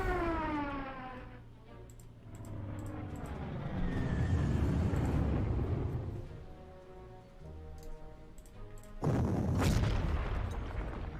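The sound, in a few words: bombing explosion in the video game Panzer Corps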